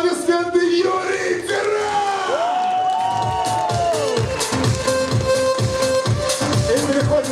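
Crowd at a live contest event in a café cheers, whoops and yells for a contestant, a loud sustained roar with shouted voices throughout.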